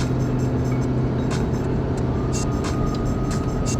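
A Ford F250 pickup towing an Airstream trailer labors up a steep 15% grade in second gear, its engine droning loud and steady with constant low rumble and road noise throughout.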